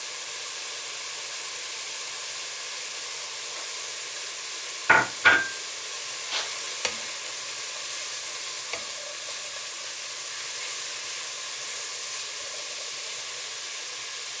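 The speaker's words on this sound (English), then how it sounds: "once the mushrooms are all in there and it's all getting coated up, I'm then going to add 2 chopped up carrots" Mushrooms and chopped carrots fry in olive oil in a pan, a steady close sizzle with a few sharp clacks of a utensil midway and light stirring scrapes, no voices.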